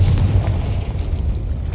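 A Confringo spell bursts against a gate in the video game Hogwarts Legacy, a loud, sustained low boom with rumbling debris lasting nearly two seconds, no voices over it.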